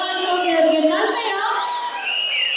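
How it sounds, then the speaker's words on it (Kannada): A crowd cheers and shouts at a large felicitation ceremony for politician HD Kumaraswamy in Pandavapura, with raised voices and whoops overlapping in a continuous, lively din. "ಜೋರಾದ ಚಪ್ಪಾಳೆಯೊಂದಿಗೆ"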